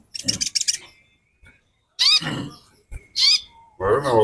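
A female konin, a small songbird, gives loud, bright, warbling chirping phrases in repeated bursts separated by brief silences, close and clear, with people chatting nearby.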